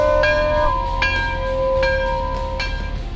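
A bell rings out in several clear, resonant strikes about a second apart, each leaving a long ringing tone over a steady background hum.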